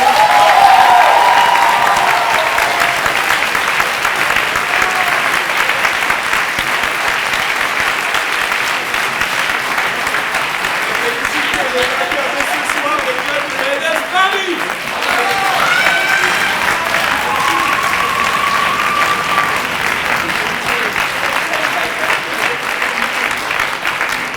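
At the 2024 French debating cup final, the crowd gives loud, sustained applause for the debate teams, a dense wash of clapping that holds steady throughout with a few scattered voices and cheers mixed in.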